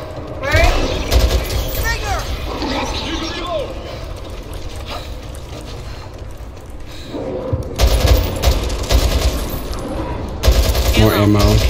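Shotgun fire in the Back 4 Blood video game, repeated loud blasts and rapid bursts layered over game noise, with several people talking throughout.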